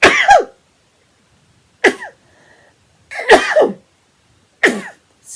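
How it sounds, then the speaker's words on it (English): A series of four sharp sneezes or cough-like bursts, close and loud, separated by short silences. "I'm just going to sneeze."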